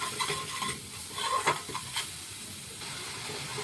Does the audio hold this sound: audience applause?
no